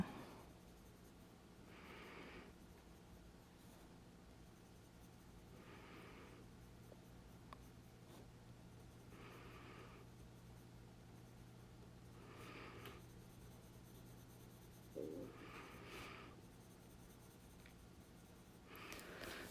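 Colored pencil laying down a light aqua layer on paper, faint, close strokes of soft scratching that come in short bursts every couple of seconds, separated by quiet gaps over a steady low room hum.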